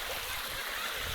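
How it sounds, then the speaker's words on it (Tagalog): A cold creek in Barangay Takul, Kidapawan, flows in a soft, steady hiss and gurgle, faint and brief with no voices. "Ito ang sapa ng mal."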